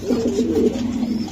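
A white racer pigeon coos close by, one soft, throaty, rolling call lasting about a second, alone and fairly loud.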